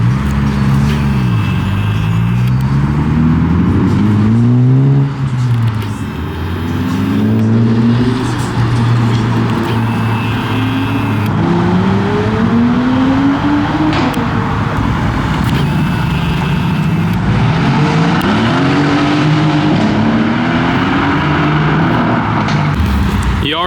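Cars at an underground meet, including a 5.0 Mustang, a Honda Type R and an AMG, rev repeatedly with rising and falling engine notes and rumble close by. The loud, continuous noise echoes off concrete.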